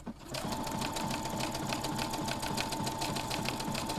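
Sewing machine running a slight zigzag stitch, a rapid, even mechanical chatter heard up close and uninterrupted.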